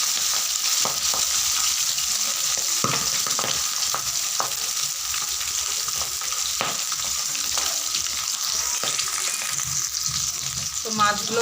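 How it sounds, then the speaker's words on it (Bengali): Pieces of rui fish fry in hot oil in a pan, a steady, dense sizzle running the whole time with a few sharp clicks and spatters as the fish are turned, no talking. "মাছগুলোকে উল্টে দিচ্ছি, ভাজা হয়ে গেছে এক পাশে।"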